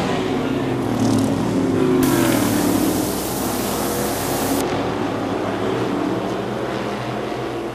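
Short track race cars roar past at the halfway mark of an Oktoberfest race, a loud sustained engine drone with rising and falling revs and no talk.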